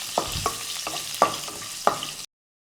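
Curry leaves and a pinch of asafoetida hit hot oil for a vegetable curry, giving a close, steady sizzle broken by several sharp spattering pops and stirring clatters, then cutting off abruptly.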